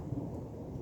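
Deep thunder rumbles right overhead from a nearby lightning strike during a storm, a sustained low roar filling the short stretch with no voices.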